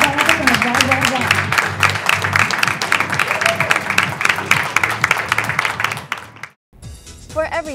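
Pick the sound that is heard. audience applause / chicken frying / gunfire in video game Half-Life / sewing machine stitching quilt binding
audience applause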